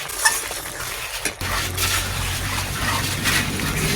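A spoon scrapes and stirs through chicken curry with spices in a pot, a steady close scraping with a few light clinks against the metal and a low background hum.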